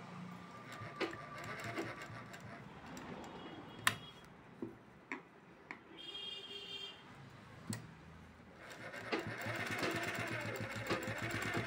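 A sewing machine stitching a blouse with a pa neck, running in short bursts of rapid ticking needle strokes, with sharp clicks between runs and a longer steady stretch at the end.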